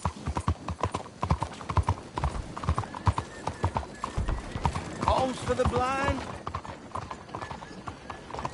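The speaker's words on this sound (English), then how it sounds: "You ought to take care of that horse there." Horse hooves clip-clop steadily on a street in the video game Red Dead Redemption 2, close and rhythmic, with a horse whinnying briefly and several characters talking over the hoofbeats.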